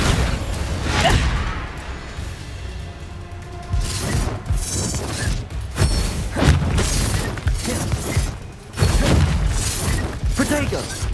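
Rapid spell effects from the video game Hogwarts Legacy, including the fiery Confringo blast, burst repeatedly as loud whooshes, booms and crackling impacts in a busy, continuous barrage with a voice calling out over them.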